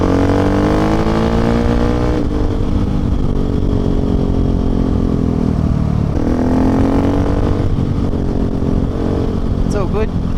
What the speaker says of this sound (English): here we are following Lisa's African Twin as we head into Halls Gap